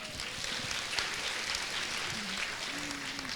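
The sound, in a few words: audience applause at citizens' meeting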